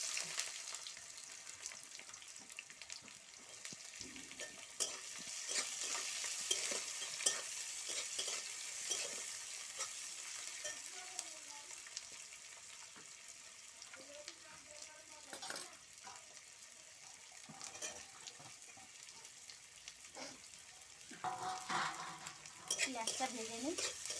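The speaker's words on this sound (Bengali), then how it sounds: "পেঁয়াজটা ভেজে নিই।" Onions fry in a small amount of leftover meat-frying oil in a pan with cinnamon and cardamom, giving a steady bright sizzle broken by repeated scraping strokes of a stirring spoon, with faint voice fragments in places.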